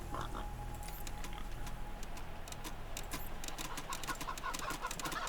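Cyborg chickens in the Wasteland 3 video game cluck and chirp in scattered short bursts over a dense, steady game ambience, with faint ticking and a thin sustained tone early on.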